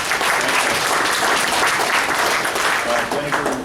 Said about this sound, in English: applause for Sudhir